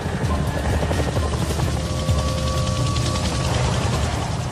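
An RAF Chinook helicopter flies nearby, its heavy rotor thump and turbine whine forming a loud, continuous drone that stays steady throughout, with no voices over it.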